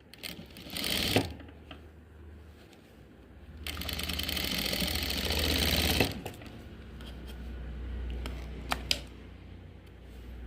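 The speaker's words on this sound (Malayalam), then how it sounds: "എന്നിട്ട് മറു സൈഡ് സ്റ്റിച്ച് ചെയ്ത് കൊടുക്കും." Sewing machine stitching cigarette pants, running in sustained whirring bursts with short pauses between, close and fairly loud.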